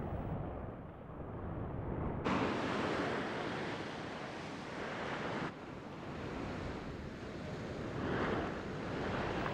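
Ocean surf breaks and washes steadily onto a beach on the Valdés Peninsula, a loud continuous roar of waves with a few swells and bursts, with wind blowing across the shore.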